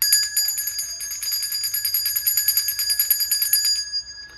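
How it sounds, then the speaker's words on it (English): A bell rings rapidly and continuously, bright metallic strikes repeating for several seconds before stopping abruptly. "I don't know why I'm being called to ring this bell."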